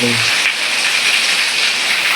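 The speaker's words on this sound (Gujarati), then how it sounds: "વરસાદ જો કેવો આવે છે" Steady, dense hiss of heavy rain pouring down nearby in Lamdhar, with a brief low hum at the very start.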